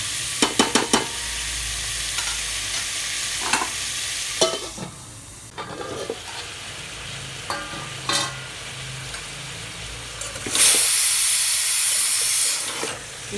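Tempering for Andhra pappu charu sizzles and hisses in hot oil as it is stirred, with sharp crackling bursts and scraping stirs rising and falling over a steady frying hiss.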